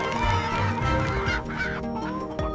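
Farmyard chickens cluck loudly and busily up close on harvest day, overlapping calls that run continuously with sharp honk-like squawks.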